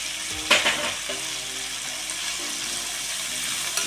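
Green peas, soaked four hours, being stirred into a puri curry in a pan, with a steady background sizzle and a few louder scrapes of the spoon near the start, no talking.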